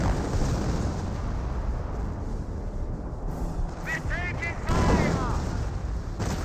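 Nebelwerfer rocket barrage slamming down in Company of Heroes, a dense continuous rumble of explosions with crackling debris, swelling louder near the end amid steady battle noise, with a voice speaking over it.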